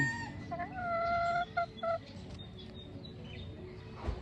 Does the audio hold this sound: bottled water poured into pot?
no